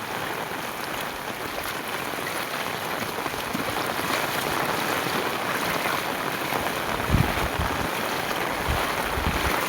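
Heavy rain pours steadily over a village with flooded lanes, a dense, continuous hiss of falling water that stays loud throughout, with a few brief thuds near the end.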